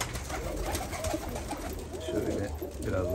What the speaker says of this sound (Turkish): Bunlar da ayrı olarak burada çalıştığımız kuşlarımız